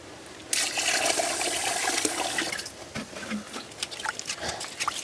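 Drained rice-cooking water poured from a pot onto a pineapple plant in a village garden, a steady close splashing rush that starts suddenly, holds, then thins into scattered trickles and drips.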